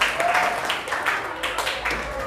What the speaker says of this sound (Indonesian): Tepuk tangan buat semuanya dulu.